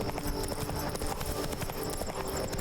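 Geralt's horse Roach trots along in The Witcher 3: Wild Hunt's Blood and Wine expansion, a steady, even clip-clop of hooves set against a continuous bed of game ambience and music.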